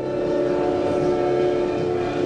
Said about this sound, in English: Despite the red flashing lights and blaring train horn, the driver pressed on, leading to the devastating collision.